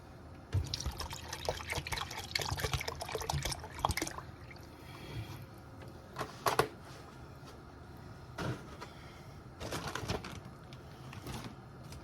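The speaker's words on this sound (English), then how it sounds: "we're going to add about 4 cups of milk" Milk poured into a slow cooker of loaded baked potato soup gives a soft, faint liquid trickle and splash, coming in intermittent bursts at close range with no talking.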